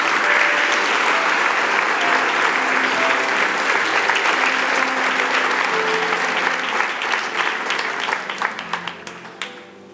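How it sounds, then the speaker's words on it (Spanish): A church congregation bursts into loud, sustained applause that holds for several seconds and then thins into scattered claps at the end. "al gran dele un gran aplauso"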